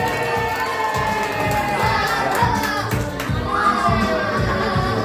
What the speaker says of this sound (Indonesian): Ya udah kita beri tepuk tangan yang meriah.